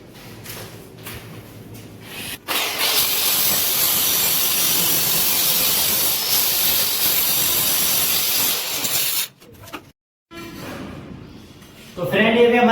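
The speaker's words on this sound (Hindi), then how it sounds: "तो फटाक से हम क्रीम भी काट लेते और ब्लैक का हिस्सा भी काट देते" A power cutter slices through cream and black tiles with a loud, steady hissing whine that runs continuously for about seven seconds, then cuts off abruptly into quieter handling noise.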